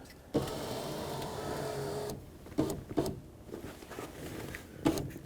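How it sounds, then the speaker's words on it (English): A power window motor in a 2005-2010 Pontiac G6 door, regulator being replaced, raises the glass in one steady whirring run of about two seconds, followed by a few quieter clicks and knocks from the door. "I want to bring my window up"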